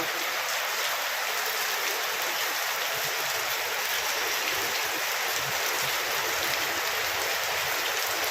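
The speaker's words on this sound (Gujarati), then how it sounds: "હજી વરસાદ ચાલુ જ છે સવારનો વરસાદ ચાલુ છે" Steady rain pours down with a dense, hissing wash of drops on surfaces, loud and continuous throughout without any break.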